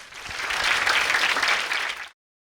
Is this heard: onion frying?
no